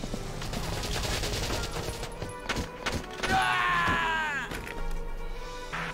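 Enemy return fire in the video game Valkyria Chronicles: a dense fusillade of rapid gunshots and thuds, loud and continuous, with a short electronic tone partway through.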